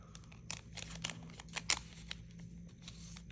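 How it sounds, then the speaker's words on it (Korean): Scissors snipping open a KBO baseball trading card pack, a few short crisp cuts and rustles close by at low volume, with no talking. "또 이 가위로 자를 때는 진짜 잘 잘라야 되거든요"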